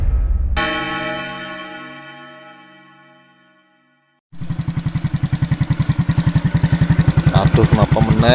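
A motorcycle engine starts after a long ringing bell-like tone fades to silence, then runs with a loud, rapid, rough putter close by, growing slightly stronger at a campsite.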